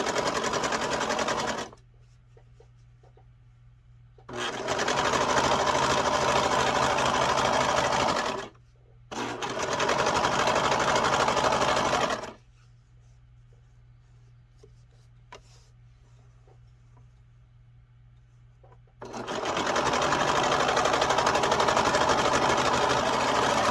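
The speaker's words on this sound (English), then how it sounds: "So I've serged it together." A serger overlocker stitching a sweatshirt dress together, running in three loud steady bursts of several seconds each, with quiet pauses between them and no talking.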